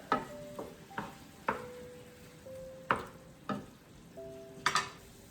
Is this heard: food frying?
yes